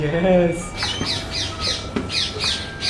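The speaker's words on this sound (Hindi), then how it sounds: "भाई बाहर आते चिड़ियों की चहचहाहट" Birds chirp and squawk outdoors in a repeated series of sharp, bright calls at a steady rhythm, fairly close and loud, with a brief voice at the start.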